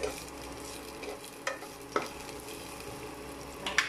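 Food browning in a frying pan, a faint steady sizzle with a few soft scraping stirs, heard close with no talk.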